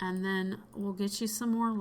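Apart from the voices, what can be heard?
No everyday noise stands out behind the speech.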